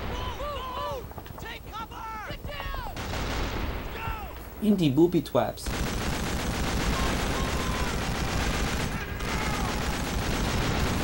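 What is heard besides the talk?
gunfire in video game Call of Duty 2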